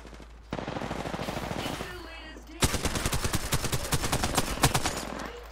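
Video game gunfire in Apex Legends: bursts of rapid automatic shots, first a muffled stretch and then louder, sharper repeated rounds, with a voice briefly talking underneath.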